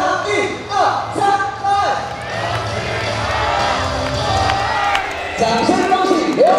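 A baseball stadium crowd roars during an MVP celebration at a Fubon Guardians home game, rising chants and cheering blended with an announcer's amplified voice, loud and echoing across the stands.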